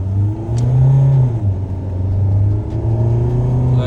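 Mahindra XUV700 and Audi A4 accelerating side by side in a drag race, engines droning loud and close as their pitch climbs and dips through gear changes, with no talking.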